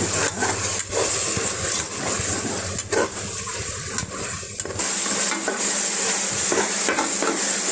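Ground pirandai paste and garlic sautéing in a pan, with a steady close sizzle and scraping stir sounds throughout, the frying noise shifting slightly partway through.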